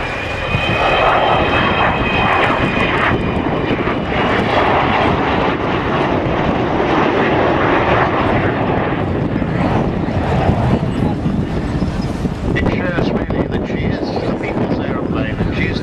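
An Avro Vulcan bomber roars past loudly and continuously at an air show, its broad jet engine rumble filling the whole stretch with some wind buffeting.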